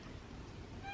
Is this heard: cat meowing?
yes